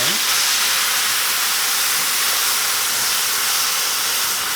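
Wine poured into a very hot, scorching pan while cooking a succotash stew sizzles loudly with a steady, broad steam hiss that fills the whole stretch, close and continuous with no speech.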